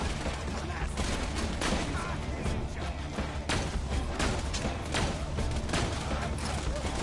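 Gunfire from the Borderlands 2 shooter game, with pistol and sniper shots as clustered cracks over a dense, busy mix of combat noise that stays steady and moderately loud.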